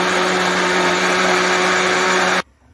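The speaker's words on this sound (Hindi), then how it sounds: "ऑयल जो है वो हम अब ब्लेंडर में डालते हैं और इसको अच्छी तरह से जो है वो इसको 2 से 3 मिनट बीट करते हैं" An electric blender beats eggs, sugar and oil into cake batter with a loud, steady whirring drone up close, cutting off abruptly just before the end.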